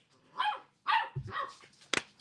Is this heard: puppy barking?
yes